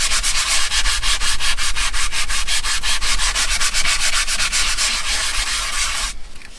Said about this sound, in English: I am just sanding.